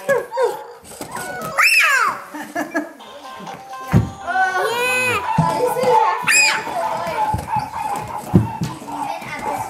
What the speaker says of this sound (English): Oh, listen to that little puppy.